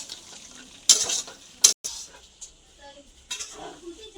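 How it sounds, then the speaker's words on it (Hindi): Hot roasted food being mixed by hand in a pan gives soft rustling and stirring, broken by a few sharp clinks of metal against the pan, while a voice speaks quietly in between. "अब हाथ से मिलाएंगे, ये बहुत गर्म है इसलिए"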